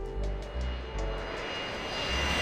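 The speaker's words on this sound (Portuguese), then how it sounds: "Temos aí essa maravilhosa cena de abertura de um flyby do A4." An A-4 Skyhawk jet roaring past in the DCS flight simulator, a loud continuous engine rumble with a broad whooshing hiss and faint rhythmic pulsing, steady throughout the short flyby.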